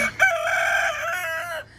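A rooster crows loudly and close by in one drawn-out call, with hens clucking faintly around it among a backyard flock of small birds.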